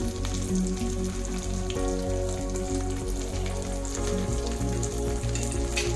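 Chopped green chillies, a small piece of ginger and asafoetida fry in hot oil for a chutney, giving a loud, continuous, close sizzle with crackling spatter and no voices.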